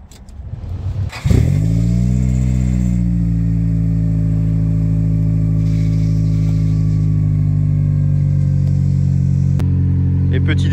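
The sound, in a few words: Nissan Silvia S14 engine starting and revving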